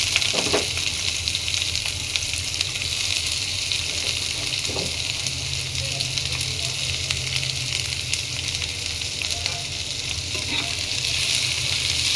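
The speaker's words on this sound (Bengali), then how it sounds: "মরিচগুলো একটু ভাজা হয়ে গেলে এর মধ্যে দিয়ে দিচ্ছি রসুন আর কাঁচামরিচ কাঁচা পেঁয়াজ কুচি" Green chilies, garlic and chopped raw onion frying in oil for a mashed peanut dish, with an even, close sizzle and occasional crackles and stirring sounds running throughout.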